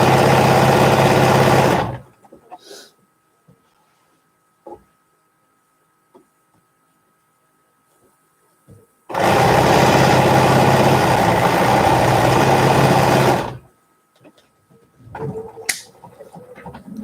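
A sewing machine stitches a wavy quilt border in two loud, close bursts of steady whirring, separated by a long quiet pause with faint handling noises, and no one speaks.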